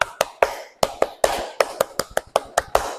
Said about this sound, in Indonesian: ada tepuk yang namanya tepuk konsentrasi